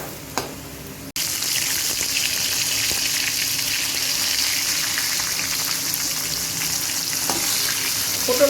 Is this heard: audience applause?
no